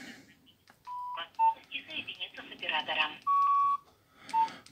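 Nokia-era mobile phone keypad giving short DTMF dialing beeps, several separate steady tones spaced apart, with someone talking between and over them at close range.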